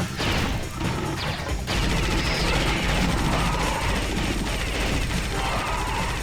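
Continuous loud gunfire and crashing impacts in the 2003 top-down game Alien Shooter, a dense unbroken barrage of shots and smashes running through the whole stretch.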